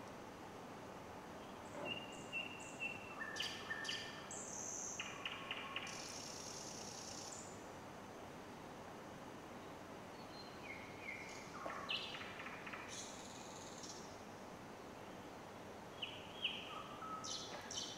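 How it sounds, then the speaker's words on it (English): Birds chirp and sing in short, scattered high calls over a steady faint background hiss, fairly distant and quiet throughout, with no talking. "Pay attention to the sound of the birds. They are singing for God's greater glory."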